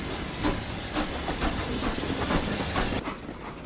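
Steam locomotive hissing with rhythmic clickety-clack as it rolls along the rails, a steady loud rumble that cuts off sharply near the end.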